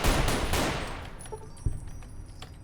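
Gunfire in the Fallout: New Vegas Vietnam War mod, a loud burst of rapid automatic fire that fades into a lingering roar, then a single sharp distant shot and a few fainter cracks.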